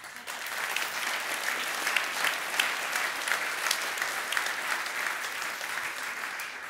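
An audience applauds after a lecture in a hall, steady dense clapping from many hands throughout, with no talk over it.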